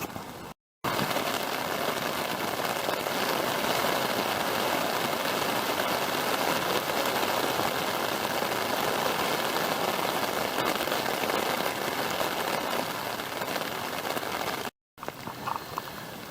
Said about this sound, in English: The rain is back, and it's been a good downpour since about 2 a.m. this morning.